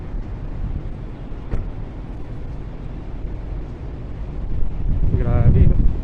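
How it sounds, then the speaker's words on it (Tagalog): A sandstorm wind roars across an open area and buffets the microphone in a steady, heavy rush. A voice briefly breaks in near the end. "Sa lakas ng sandstorm, mas lalo pa sa open area."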